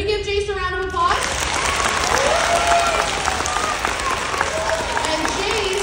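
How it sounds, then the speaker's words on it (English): An audience of children and adults at a school gathering breaks into loud applause after a brief spoken introduction, the clapping sustained and mixed with cheers and a few shouted voices. "Can we give Jace a round of applause?"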